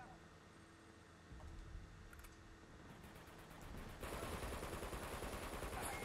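Rapid gunfire in Uncharted 2 multiplayer, bursts of automatic shots that build from quiet to a dense, loud rattle, with faint clicking mixed in.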